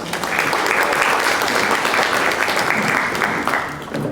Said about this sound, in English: Please a round of applause for yourselves for being here.